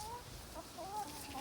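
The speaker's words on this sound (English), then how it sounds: "So, as you can see, these hens are scratching around." Rescued hens scratch around an outdoor sanctuary yard, clucking softly and steadily in short murmuring calls against a constant open-air background hiss.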